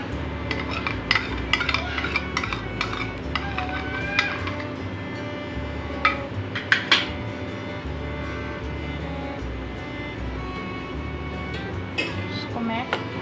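A spoon or whisk stirs red food colouring into cake batter in a bowl, giving soft repeated scraping and clinks against the bowl under a steady low background hum. No voice is heard.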